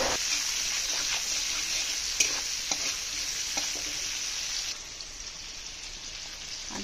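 Onions fry in oil with a steady, moderate sizzle and a few sharp stirring clicks, with ginger-garlic paste added to the pan. The hiss softens slightly toward the end.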